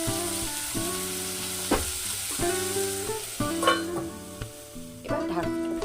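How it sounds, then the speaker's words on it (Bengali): Vegetables salted and stirred in a pan sizzle steadily, with intermittent scraping stir strokes, all under continuous background music. "সবজিগুলো ভাজার জন্য আমি একটু নুন দিয়ে আমি নাড়াচাড়া করে"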